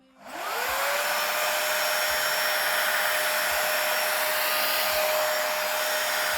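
A budget Dyson Airwrap-style 5-in-1 hair styler with a barrel attachment switches on and blows a steady, loud rushing whoosh with a constant whine, running alone without talk.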